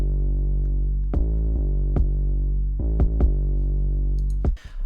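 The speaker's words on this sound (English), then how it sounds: "I then laid down a kick which hits together with the 808 most of the time" Punchy kick drums made with FL Studio stock plugins thump over a heavy sustained 808 bass in an irregular, bouncy pattern, some hits doubled close together, ending with a brief bright crash.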